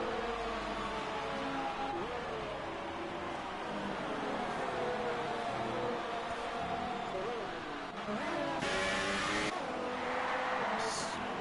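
F4 race cars in a sim racing game at a Japanese circuit, with a continuous high-revving engine whine that rises and falls through gear changes, heard close and loud while a commentator talks over it.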